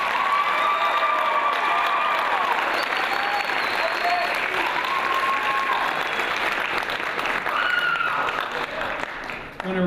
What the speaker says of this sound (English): And then one more round of applause for the stars up front here.